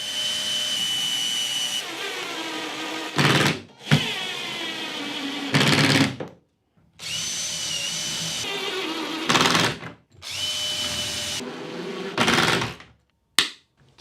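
A pin nailer driving pins into parts, giving several short, sharp bursts of loud mechanical noise between quieter stretches of background hum, with no talking.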